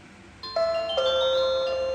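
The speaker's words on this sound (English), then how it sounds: "So you can hear that the doorbell is ringing." A Dzees wireless smart WiFi video doorbell chime rings indoors with a clear, close two-tone ding-dong. Bright electronic notes sustain and ring out over a quiet background.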